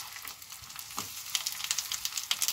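Food sizzles and crackles steadily in a hot frying pan with oil, a dense close hiss with quick popping bursts and one soft stir or scrape.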